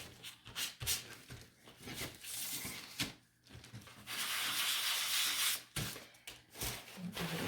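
Sanding the edges of a wooden sign by pushing the wood around on the floor, giving a steady scraping, rubbing rasp in uneven bursts with brief pauses and one longer continuous stretch.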